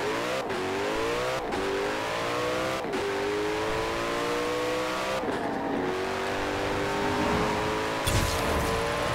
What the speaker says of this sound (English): So, that was the 2008 Koenigsegg CCGT